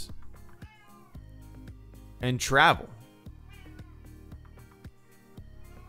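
A pet cat gives a loud, drawn-out meow, rising then falling over about half a second, close by, while a person talks over steady background music.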